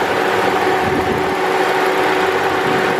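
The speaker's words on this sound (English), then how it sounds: "I just heard the fans come on." Radiator cooling fans run on an overheating 2004 Kia Sedona, giving a loud, steady broadband whoosh with a low mechanical hum that holds evenly throughout, with no talking.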